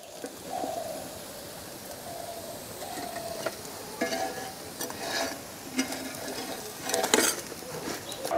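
Crispy pumpkin-flower fritters frying in hot oil and being lifted out: a continuous bubbling sizzle broken by intermittent scraping and clinking of a utensil against the pan, close and moderately loud.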